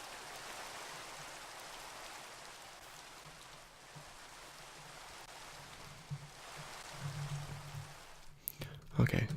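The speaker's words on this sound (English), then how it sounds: "I can't hear my voice because of the rain." Rain in the video game Minecraft patters as a steady soft hiss, fairly faint and even, with a few sharper clicks and bumps near the end.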